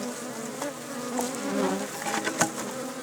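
Many honeybees buzz continuously at close range around hives, a dense humming swarm with individual wingbeats swelling and passing near.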